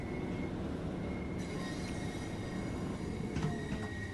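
A Class 377/4 electric train in Train Sim World 2 runs steadily, with a dense rolling rumble, squealing wheels and a sustained high electric whine, all close and continuous without speech.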